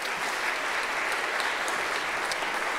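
Audience applause for a court bailiff at a hosted guest-welcome event, a steady dense wash of many hands clapping at even loudness throughout, with no voices over it.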